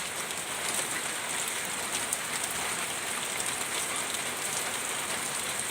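Monsoon rain pours down in a constant close hiss, drops pattering on a surface at even loudness from start to finish, with no talking.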